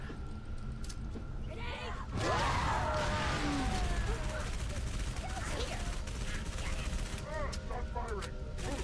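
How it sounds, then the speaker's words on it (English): Gunfire from a rocket launcher, automag pistol and sniper rifle in Halo 3: ODST: a loud dense burst of shots and blasts erupts suddenly and continues steadily, with overlapping cracks and game effects throughout. "I just shoot 1 rocket and then just auto mag and sniper the rest"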